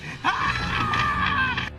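A single drawn-out, high-pitched scream, as in a horror story, holds steady for over a second, loud and close, then cuts off abruptly.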